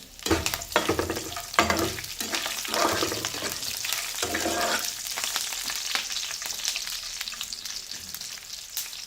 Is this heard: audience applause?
no